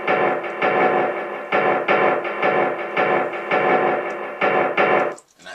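A filtered snare drum hits repeatedly in a steady beat pattern, each strike loud and upfront with a muffled, band-limited body, looping for several bars before cutting off near the end.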